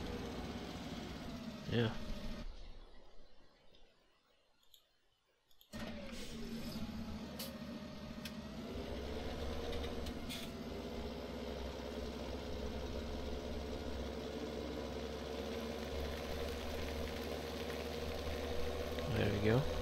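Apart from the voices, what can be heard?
tractor engine reversing in Farming Simulator 2017 video game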